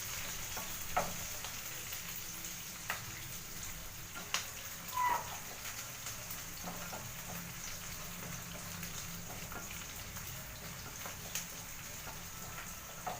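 Food fries in a pan with a steady, fairly quiet sizzle, punctuated by scattered clicks and scrapes of stirring over about thirteen seconds, with no talking.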